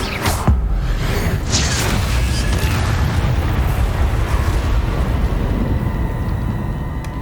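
A Confringo blasting spell in Hogwarts Legacy goes off as a loud, dense explosive roar with a sharp initial burst, then a sustained heavy rumble that stays steady for several seconds, no speech.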